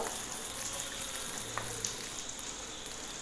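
Urad dal and fenugreek seeds frying in a pan, a steady soft sizzle with faint crackles throughout, close and even, no talking.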